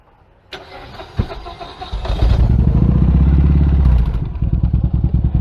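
A starter cranks, then the front-mounted V-twin engine of a three-wheeler car catches and revs to a throaty, loud roar before settling into a lumpy, pulsing idle, close by.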